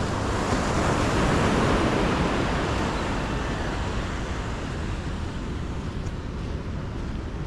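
Continuous roar of sea waves breaking close by, a dense, steady wash with some wind rumble throughout.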